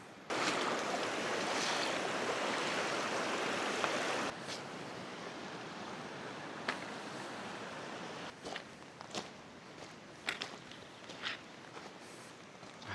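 A river in Remutaka Forest Park, New Zealand, roars loudly for a few seconds, then drops to a softer steady flow with scattered splashes and knocks close by.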